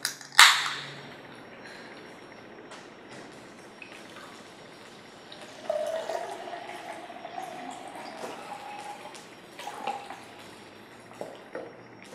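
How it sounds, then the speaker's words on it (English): Soda water is poured into a glass, starting with a sharp clink and splash, then continuing as a soft trickle with fizzy crackles and scattered drips at close range. "First, pour half of the soda water into the glass."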